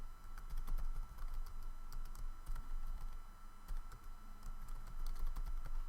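An email typed on a computer keyboard: quick, close key clicks in irregular bursts over a low steady hum, with no voices.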